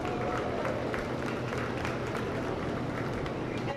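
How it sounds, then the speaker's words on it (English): Crowd applause at a Holstein cattle show in a county fair ring, a dense and steady wash of clapping mixed with a low, rumbling crowd murmur, moderately loud throughout. "Let's give them a big round of applause."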